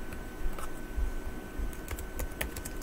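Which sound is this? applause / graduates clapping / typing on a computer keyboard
typing on a computer keyboard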